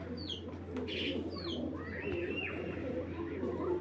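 A Netherlands Harry-breed racing pigeon coos softly and steadily close by, with a few faint chirps over a low background hum.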